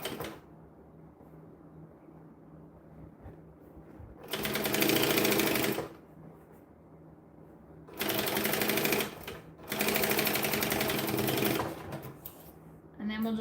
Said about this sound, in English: Alright, well at least we're stitching now